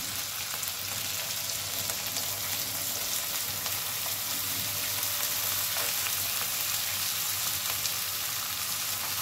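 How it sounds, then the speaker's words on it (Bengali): Chopped cabbage fries in a hot pan, a loud dense, unbroken sizzle that holds steady throughout with no voices. "এখন আমি দিয়ে দেব কেটে রাখা বাঁধাকপি।"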